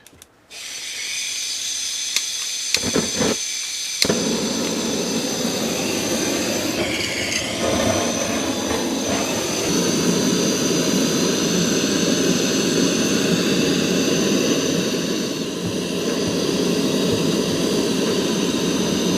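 A refurbished Taylors 028 paraffin cooker burner roars after lighting, a few clicks and bumps giving way to a loud, steady, close rushing roar that holds without talking.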